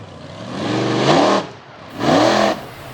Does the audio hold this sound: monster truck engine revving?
yes